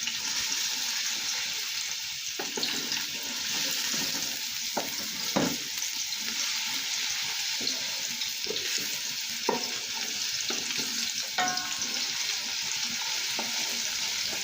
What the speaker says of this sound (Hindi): अदरक लहसुन जब ब्राउन होने लगे तो आपने इसमें तेज़पात और साबुत ज़ीरा जो है